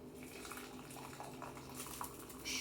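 Boiled red cabbage strained out of its hot water, a faint, steady pouring and trickling of liquid with soft clinks of a pot, ending in a slightly louder splash.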